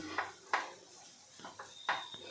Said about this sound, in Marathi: बघा असं प्रेस करत करत आपल्याला परतून घ्यायचं